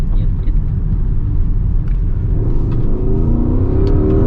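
Porsche Taycan Turbo S electric car accelerating hard, a rising electric whine sweeping upward over steady low road rumble, heard from inside the cabin without speech.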